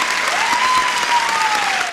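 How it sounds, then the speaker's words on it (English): Brisk audience applause welcoming a guest, dense steady clapping with a thin tone running through it, loud and continuous for the whole stretch. "you will just give a little brisk applause"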